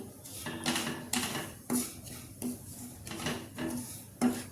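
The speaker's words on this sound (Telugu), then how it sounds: "ఇలా వేపుతూ ఉండాలండి రవ్వని" Semolina roasting in a pan for rava laddu, stirred with a spoon that scrapes and clinks against the metal in repeated strokes, close and fairly quiet, alone without speech.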